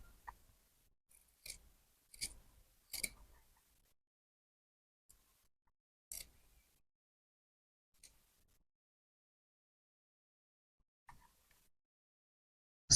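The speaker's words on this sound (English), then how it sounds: "Now I'll use my scissors to cut it down to this part that I marked." A handful of short, crisp snipping bursts spaced apart with quiet pauses, close up, as scissors cut through scuba fabric.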